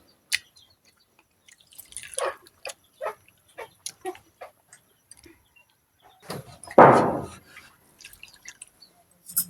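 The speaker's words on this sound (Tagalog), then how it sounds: "Lagyan natin ng 2 basong tubig mga kamaring." Water from two glasses is poured into a cooking pot while making a fish and mung bean dish, a loud splashing burst after scattered drips, clinks and small knocks, with no voices.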